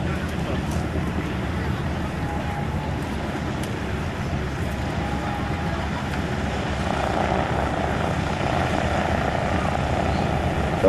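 Aerobatic airplanes with six-cylinder opposed engines drone continuously at an airshow, a steady buzzing engine note at moderate distance, with a voice talking over it.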